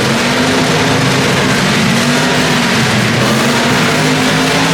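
At a car meet, a car engine revs hard nearby, a loud sustained roaring drone that stays dense and steady throughout without pauses.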